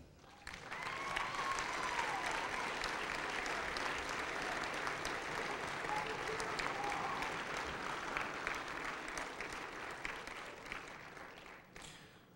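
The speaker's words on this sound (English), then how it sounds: "I would like to give the graduates this opportunity to give them all a round of applause." An audience at a December 1999 university graduation ceremony applauds the graduates, with continuous moderately distant clapping that swells quickly, holds steady for about ten seconds and then tapers off.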